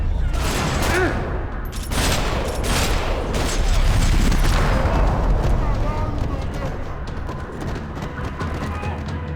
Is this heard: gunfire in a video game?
yes